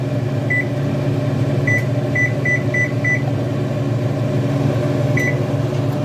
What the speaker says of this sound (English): So let's set the timer